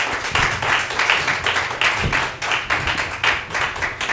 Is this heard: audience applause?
yes